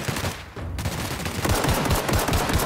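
Pistol fire in The Outer Worlds, a dense run of sharp, rapid shots after a brief lull, loud and continuous with combat noise beneath.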